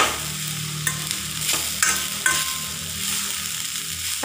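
Grated coconut sautés in a hot pan for ada, with a steady soft sizzle and a few sharp scraping stirs of a spoon against the pan, close and clear with no voices.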